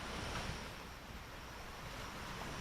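Strong creek swollen by monsoon rains rushes in a steady, dense wash of flowing water, fairly faint and distant, with some wind buffeting the microphone and no voices.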